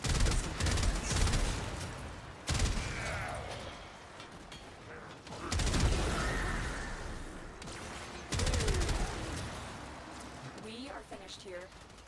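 Gunfire from the Warframe video game, with several loud bursts of shots and mechanical clatter separated by short pauses, set among game effects and mixed with a voice.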